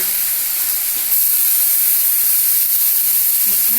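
Chopped potatoes frying in a pan, a steady bright sizzling hiss that swells slightly louder about a second in and keeps going evenly, close up with no talk.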